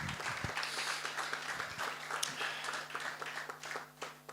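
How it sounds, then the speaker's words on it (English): An audience at a Nigerian conference event claps in a large hall, a faint, scattered patter of many hands over a low steady hum, continuing unevenly for several seconds. "I honestly don't approve of the way we clap. Let's make it better."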